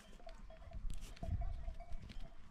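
Farm goats wander a grassy site, one wearing a bell; faint bleats and a light tinkling bell come from nearby over quiet outdoor background.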